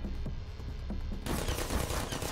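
Automated sentry turrets in the Portal video game open fire in a dense, continuous burst that starts abruptly about halfway through and stays loud to the end, over a low background hum.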